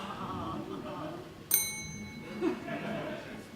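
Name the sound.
small bell ringing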